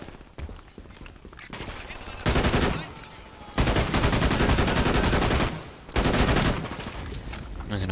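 Gunfire in the video game Brink, with bursts of automatic fire arriving in loud blocks separated by short lulls, close and dominant, and some talk in between.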